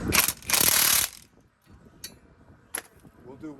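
A ratchet clicks rapidly as lug nuts are tightened on the front wheel of a 2013 Ram 3500 Megacab dually truck, with a dense burst of ratcheting followed by a few short isolated clicks, close up.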